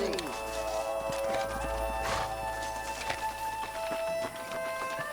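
Horses in Red Dead Redemption clopping and snorting close by, with a whinny amid a busy game soundtrack of music and effects, while someone speaks over it.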